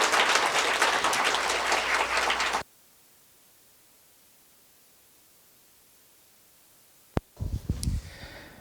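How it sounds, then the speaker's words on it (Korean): An audience at a ChatGPT lecture in the Seodaemun-gu district office gives dense, sustained applause to welcome the lecturer. It cuts off abruptly after about two and a half seconds, followed by silence and then a few brief thumps and rustles. "강사님을 모시겠습니다. 뜨거운 박수로 맞이하여 주시기 바랍니다"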